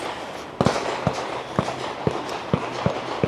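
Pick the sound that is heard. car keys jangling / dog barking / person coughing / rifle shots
rifle shots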